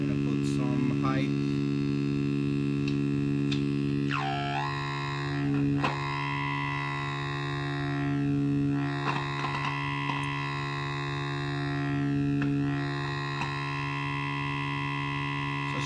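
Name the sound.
Moog 3 band parametric EQ sweeping width, height, frequency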